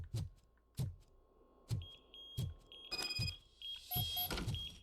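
In the RoboCop: Rogue City video game, about eight evenly spaced low electronic beeps repeat roughly every 0.8 seconds, joined by higher tonal game sounds and chimes later on.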